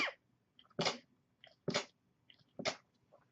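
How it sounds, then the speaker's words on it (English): Four sharp sneezes come in turn from one nearby person, roughly evenly spaced and each preceded by a short breathy intake, loud and close in an otherwise quiet room. "excuse me, sorry for all the sneezing"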